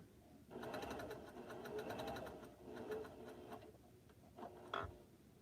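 A quilter's sewing machine stitches in steady rapid bursts, its needle ticking loudly and evenly for several seconds, then slowing and stopping with a few short mechanical clunks at the end.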